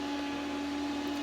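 Steady mechanical whir with a constant electrical hum from an Antminer S9 bitcoin mining machine with cooling fans running nearby, no voices.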